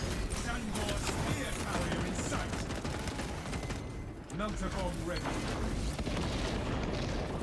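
Dense battle noise from a shooter game in siege mode fills the clip, with gunfire, heavy booms and explosion rumble running continuously, while a voice talks over the din.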